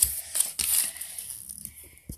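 Packaging for Super Smash Bros for the 3DS being torn and snipped open, a few quick crisp rips and crinkles up close, then softer rustling.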